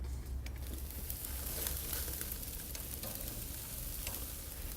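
Pizza dough sizzling on a greased outdoor barbecue grill, a steady soft hiss and crackle that continues throughout at moderate distance with no talking.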